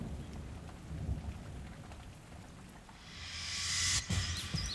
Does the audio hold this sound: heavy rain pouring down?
yes